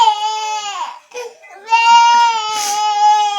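Young girl crying and whimpering at close range, set off by a very strong onion in a village home; two wailing bursts separated by a short catch of breath, loud and sustained.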